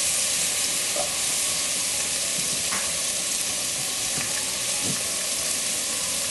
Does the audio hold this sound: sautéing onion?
yes